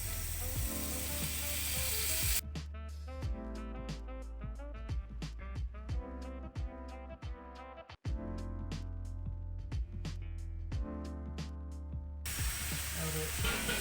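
Beef keema mince with coriander sizzles and crackles in a pan, a steady hiss broken by sharp stirring clicks and scrapes, loud and close throughout.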